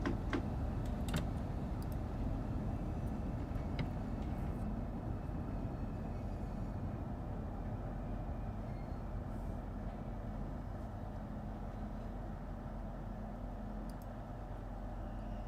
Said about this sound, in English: Why is this train not going quick?